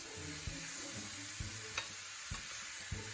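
Potatoes and peas stirred into a pot, soft scraping strokes and a few clunks of the spoon in a quiet kitchen with a faint sizzle beneath.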